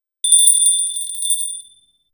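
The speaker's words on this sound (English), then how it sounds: "SpongeBob rang the bell" A single bell rings at the foot of a long staircase, a bright metallic ding that sounds once and then fades out over about a second.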